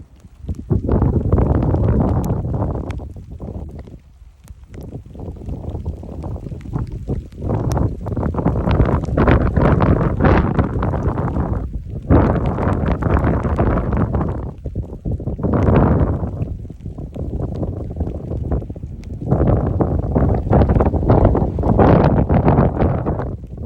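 Strong wind gusts buffet the microphone in loud, roaring surges that rise and fall, with brief lulls between blasts.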